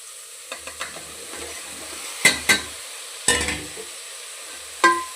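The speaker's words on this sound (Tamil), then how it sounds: "இப்போ இதை வதக்கிடுறேன் கொஞ்சம் நேரம்" Brinjal, radish and drumstick pieces being sautéed and stirred in a pan for a vegetable kootu, soft sizzling under a spoon scraping and clinking against the metal in a few separate strokes, close up.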